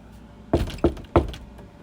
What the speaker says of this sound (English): Until then you hear a knock on the door.